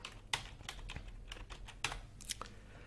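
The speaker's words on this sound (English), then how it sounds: "Type gpedit.msc." Typing on a computer keyboard: a short run of light, irregular key clicks, close and quiet, with no voices.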